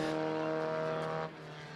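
A race car accelerates away after a fuel stop, its engine a steady harmonic drone close by that drops noticeably in level toward the end as it pulls off.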